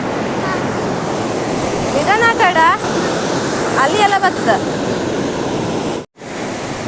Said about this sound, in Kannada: ಇವತ್ತು ಬೀಚಗೆ ಮಸ್ತ್ ನೀರು ಬಂದಿತ್ತು